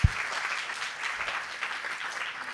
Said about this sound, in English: Let's get just one more round of applause for everybody who spoke today